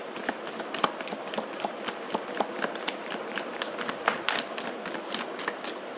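Tarot cards being shuffled by hand during a reading, a steady run of soft riffling flicks and taps repeating throughout, close and fairly quiet with no talk over it.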